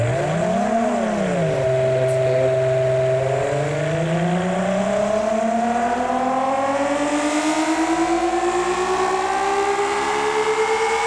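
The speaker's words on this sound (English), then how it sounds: "We start the engine." A naturally aspirated 60-degree V6 engine in the car game Automation cranks and fires, its synthesized tone rising and dipping before climbing steadily as revs build, a loud continuous whine with clear harmonics for about eleven seconds.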